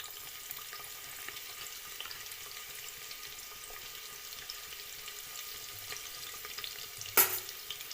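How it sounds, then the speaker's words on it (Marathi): Sliced onions fry with whole spices in hot oil, a steady soft sizzle running throughout, broken near the end by one brief louder clatter. "तेल गरम झाले त्यामध्ये खडे मसाले टाकूया खडे मसाले टाकले की लगेच आपण कांदा टाकूया"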